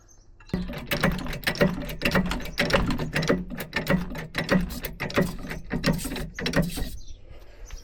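A car jack ratchets up under a Nissan Micra K11 at the front jacking point, a close, steady run of about a dozen metallic clicking strokes that starts abruptly and stops near the end.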